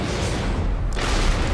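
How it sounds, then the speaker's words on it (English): A booming explosion from the video game Metal Gear Rising: Revengeance, a dense roar of rumbling noise that swells and sustains for over a second with no talk over it. "Oh god, explosion."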